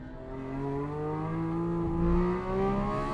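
Porsche 911 GT3 RS race cars accelerating hard on a track, engine pitch climbing smoothly in rising harmonic sweeps, loud and sustained with a brief lift near the end.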